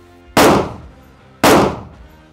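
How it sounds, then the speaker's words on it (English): Two loud, sharp AK rifle shots of full metal jacket rounds strike a super heavy power armor plate, each a sudden crack with a short decaying ring, spaced about a second apart. "Super heavy versus AK full metal jacket."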